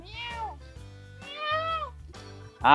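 A cat meows three times, clear and close, each cry drawn out and rising then falling, over a faint low hum.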